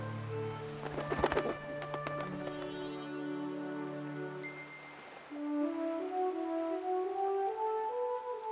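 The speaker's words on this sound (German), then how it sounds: "dann schickte er die Taube von neuem los" A dove cooing as it is sent out again from Noah's ark, with soft repeated calls set among sustained musical tones and a brief bright clatter near the start.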